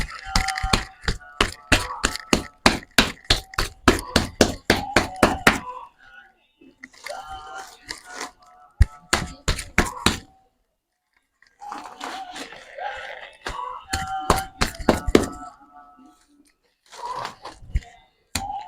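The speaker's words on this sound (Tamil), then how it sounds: "இந்த களிமண் வட்டமாக தட்டி" A traditional sculptor in Thiruvadanai pats wet clay into a round shape by hand, a rapid series of close, sharp slaps in bursts separated by short pauses, with occasional talk nearby.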